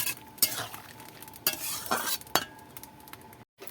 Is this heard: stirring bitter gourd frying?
yes